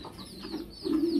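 Large fancy pigeons coo in low, throaty rolling calls, close and fairly loud, with the cooing swelling stronger toward the end.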